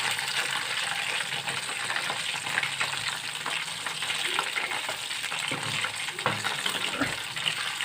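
Mutton kebab pieces frying in a pan for a grilled mutton kebab, giving a steady, continuous sizzle with crackling spits and occasional stirring scrapes, close and fairly loud throughout with no talking.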